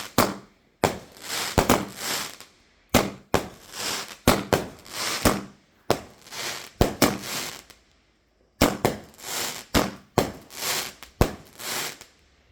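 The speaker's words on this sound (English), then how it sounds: "We're just lighting fireworks" Loud Bonfire Night fireworks go off nearby in Swansea, Wales, in rapid clusters of sharp cracks and crackling bursts, with a few short pauses between volleys.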